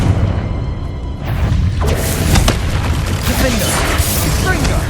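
Fiery Confringo blasting spells burst repeatedly during combat in Hogwarts Legacy, a dense run of booming explosions and whooshes under continuous battle noise and game music.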